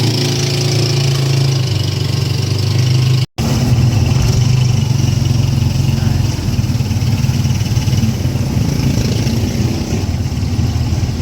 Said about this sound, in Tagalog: Sakay tayo na tricycle.